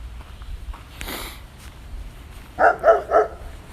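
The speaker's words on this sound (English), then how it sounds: "Oh, hello, big doggy." A big dog gives three quick, loud barks in a row near the end, preceded by a faint shuffle and some quiet background sound.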